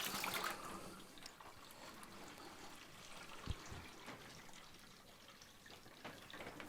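Leftover water from a Qettle boiling-water tap kettle's filter housing tipped into a kitchen sink, a faint splashing trickle over low background noise with a brief thump midway.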